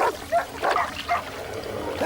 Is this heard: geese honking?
no